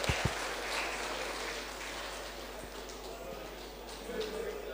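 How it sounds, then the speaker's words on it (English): Applause from an audience at a provincial church assembly meeting, a steady, dense wash of clapping that runs throughout at moderate distance, with a few sharper knocks near the start. "Clap for me."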